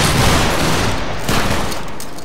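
A musket volley in the Battlegrounds 3 video game during a line battle event, a loud dense crackling burst of many shots fired together, then rumbling echo as it fades.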